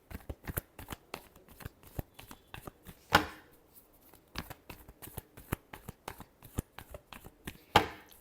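Tarot cards being shuffled by hand, a fast run of crisp riffling flicks and slaps close up, with two louder snapping bursts standing out from the steady patter; no voices.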